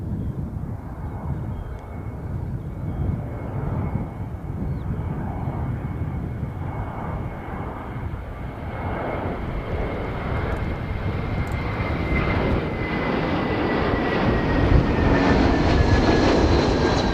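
A Jetstar airliner on Jetstar flight 273 from Hamilton arrives at Christchurch, its engines a steady loud roar that swells gradually as it comes in to land.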